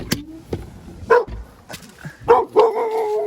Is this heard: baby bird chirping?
no